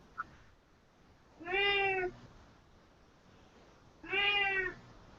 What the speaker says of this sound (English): I hear your cat. Kitty says hi.